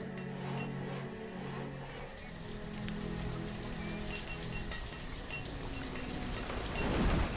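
Steady rain from the video game Banished, an even wash of patter and drizzle that runs unbroken and fairly loud throughout, with a low tonal hum beneath and no voices.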